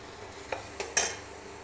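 A few clinks and a scrape of a spoon stirring masala in a pan, three short taps at close range over a faint frying hiss, with no talking.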